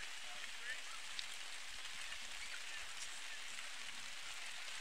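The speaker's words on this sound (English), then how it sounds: "Now the wind picking up with the rain." Steady rain hisses across a baseball field during a summer collegiate game as the wind picks up, forming a continuous wash of noise with no distinct drops standing out.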